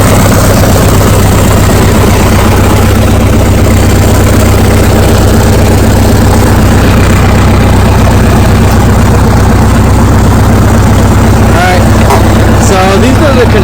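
A Case 580CK tractor engine runs at a steady idle, loud and close, with a constant low rumble and vibration throughout.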